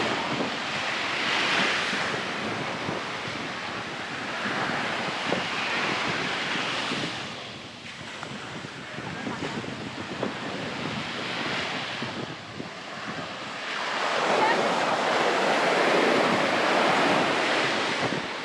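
Surf washing onto Falassarna Beach in Crete, a broad rushing roar that swells and recedes in slow cycles, with gusty wind buffeting the microphone throughout and no voices.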